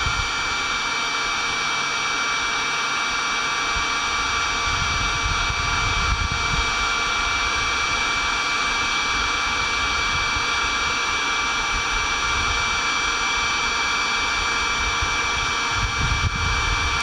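A Looftlighter electric barbecue lighter blasts hot air into a pile of charcoal, a loud, steady, close roaring whoosh like a powerful hair dryer that runs unbroken throughout, with no voices.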